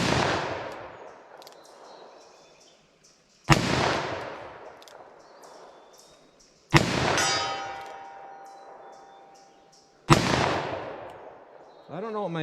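.44 Magnum revolver fired single action at an outdoor range, four loud sharp shots spaced a few seconds apart, each with a long ringing decay, with faint metallic clicks between them.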